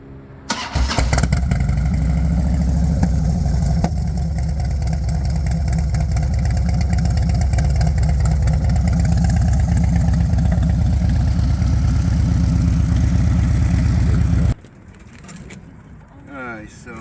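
A 2007 Harley-Davidson Electric Glide Ultra Classic motorcycle cranks and fires almost at once, then settles into a loud, close, steady lumpy idle that runs until it is shut off near the end, leaving only faint background.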